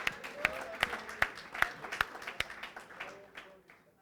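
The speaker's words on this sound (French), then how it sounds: "Now we can give him a clap." A church congregation claps together in a steady rhythm, roughly two sharp claps per second, fairly close and fading slightly toward the end.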